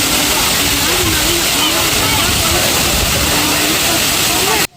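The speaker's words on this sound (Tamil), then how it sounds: "இந்த அகஸ்தியர் ஃபால்ஸில் 365 டேஸ் எப்போவுமே தண்ணி வந்துட்டு தான் இருக்கும்" Agasthiyar waterfall near Papanasam in Tenkasi roars as a dense, steady rush of falling water, loud and continuous throughout with no break.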